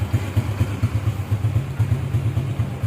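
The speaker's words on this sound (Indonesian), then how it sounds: "Mesin udah enteng, suara halus ya. Stasioner juga oke," A restored Honda Supra Fit motorcycle idles smoothly nearby, its single engine putting out an even, low, rapid putter with regular pulses and a light mechanical clatter, steady throughout with no revving.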